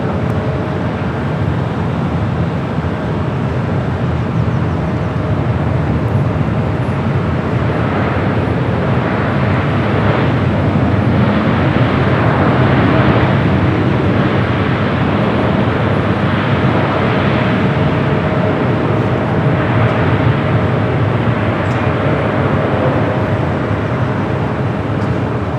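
A cargo jet arriving on runway 25 left at LAX on the south side, heard as a steady, broad roar that swells slightly in the middle and persists throughout, fairly loud and distant with no talk.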